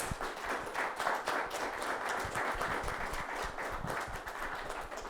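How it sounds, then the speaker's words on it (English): Audience applause for a conference panel, a steady burst of many hands clapping in a room, fairly close and even throughout. "please give these guys a round of applause."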